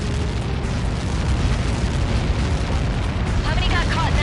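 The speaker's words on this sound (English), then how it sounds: "How many got caught in that explosion?" Massive explosion impact from Helios projectiles in the combat flight game Ace Combat 7, a sustained loud roaring rumble filling the whole stretch with dense broadband noise, with radio voices talking over it.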